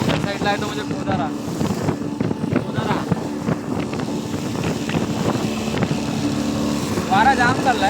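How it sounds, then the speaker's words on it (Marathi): Strong wind buffets a boat out at sea off the Ratnagiri–Raigad coast, a steady loud roar of gusts and water with an engine hum beneath, while someone talks over it throughout. "वारा जाम चाललाय."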